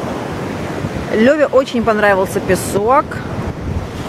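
Stormy evening surf on a beach, with a steady roar of waves and wind buffeting the microphone under a voice talking throughout.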